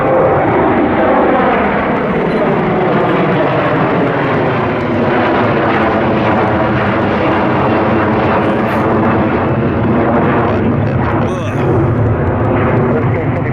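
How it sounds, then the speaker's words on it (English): A fixed-wing airliner rolls for takeoff on runway 23 at Buffalo Niagara airport. Its engines roar loud and steady throughout, a dense, continuous thunder with a faint rumble underneath. "runway 23, roll ahead and clear for takeoff"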